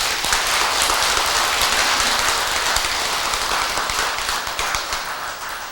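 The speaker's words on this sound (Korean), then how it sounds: "박수 한번 보내야 돼." Dense, continuous clapping from a crowd at a Buddhist dharma talk, loud and even, with the patter thinning slightly toward the end.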